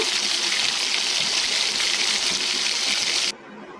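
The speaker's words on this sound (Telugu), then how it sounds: "కొన్ని వాటర్ వేసుకొని" Water pours steadily into a pan of egg curry for about three seconds, a loud, even rush that cuts off abruptly near the end, leaving quiet room tone.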